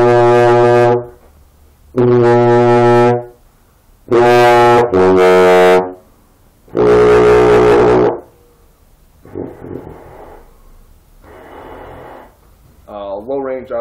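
An unfinished BBb bass French horn played through a trombone mouthpiece wrapped in electrical tape: five long, loud, sustained low brass notes, followed by a few softer, shorter, breathier tones.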